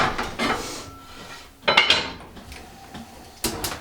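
A Dutch oven pot is set down on a kitchen range with a few metallic clanks and scrapes: one burst near the start, a sharper clatter in the middle and another knock at the end, separated by quiet gaps.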